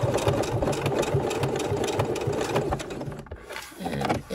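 A sewing machine runs a decorative stitch on a quilt's placemat binding, its needle thumping in a fast, steady rhythm up close, then briefly pausing before restarting.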